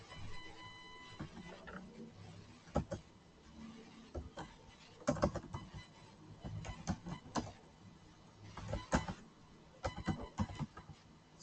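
Irregular clicks and clacks of typing on a computer keyboard while entering a spreadsheet comment, uneven bursts of keystrokes close to the microphone, with no voices.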